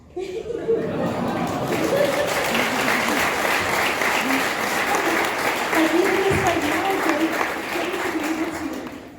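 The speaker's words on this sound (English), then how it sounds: "like your applause right now, like it echoes" Loud, continuous applause from a convention audience at a wrestling stars Q&A panel, steady for about nine seconds with a voice talking over it and some light chuckles mixed in.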